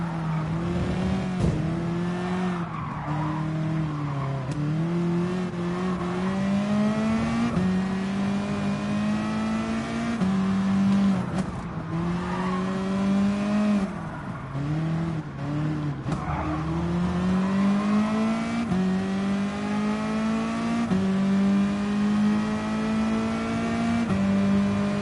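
Race car engines from Gran Turismo Sport hold a loud, close, continuous drone on the final lap, rising through the gears and dipping between shifts, with occasional tire squeal and nobody talking.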